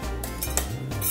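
A spoon scrapes and clinks against a bowl while cupcake batter is mixed, in a short run of irregular taps and scrapes heard close up.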